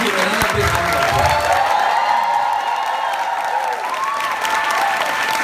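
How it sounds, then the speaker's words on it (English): Sustained applause from a seminar audience, steady dense clapping with a few whoops and cheers mixed in, loud and continuous throughout. "Don't you think you should really give him another big round of applause?"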